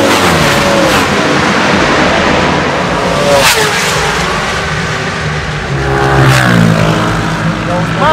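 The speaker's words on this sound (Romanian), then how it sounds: "Urcă-te pe motorul ăsta și gata, dă-i drumul" A motorcycle accelerates on the Mugello circuit, its engine note climbing in loud, close rising sweeps over a constant roar of track noise, with repeated surges as it revs through the gears.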